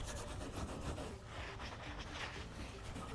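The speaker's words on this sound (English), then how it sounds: "what we're going to do is kind of abrase it with the Scotch-Brite and then go over it with the now saturated rag" Scotch-Brite pad scrubbing PPF adhesive residue off a car surface, a steady close abrasive rasping that runs continuously without talk.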